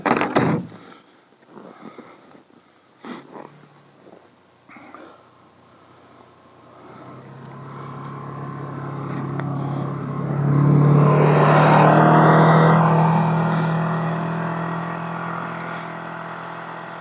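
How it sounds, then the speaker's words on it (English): A car approaches on a road and passes by. A few faint knocks come first, then a rising engine and tire rumble that swells to a peak at fairly close range and slowly fades away. "I hear a car coming"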